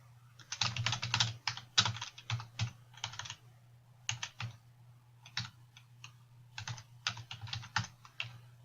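Bursts of typing on a computer keyboard with short pauses between runs of clicky keystrokes, close and clear over a steady low hum, no voice.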